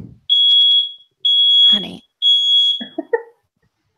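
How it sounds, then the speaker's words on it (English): A ceiling-mounted smoke alarm gives three loud, shrill beeps about a second apart, with a brief voice at the start and a short spoken word after the beeps. "Is that the smoke alarm? Yeah, it goes off periodically and it's way up on the ceiling."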